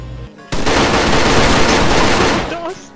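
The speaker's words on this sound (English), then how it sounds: "Watch out, the cops shooting at him." Sustained, loud automatic gunfire from police in the Arma 3 video game, a dense continuous burst lasting a couple of seconds, with voices faintly underneath.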